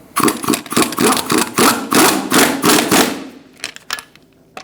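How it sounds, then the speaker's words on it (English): A 21mm socket on an impact wrench tightens lug nuts on a 2005-2010 Chrysler 300 front wheel, giving loud rapid rattling bursts in several pulses, then a few sharp clicks as it stops. "Using a 21mm socket, we're going to tighten up our lug nuts."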